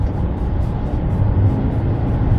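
An Ebro S400 hybrid car engine drones loudly under full-throttle acceleration in eco mode, a steady low rumbling roar from inside the vehicle without pause.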